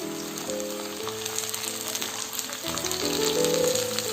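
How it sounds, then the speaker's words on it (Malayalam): A tomato with garlic and ginger frying in a pan gives a steady crackling sizzle that swells slightly later on, heard beneath continuous background music. "ഇനി ഇതിലേക്ക് ഒരു തക്കാളി ഇട്ട് കൊടുക്കാം."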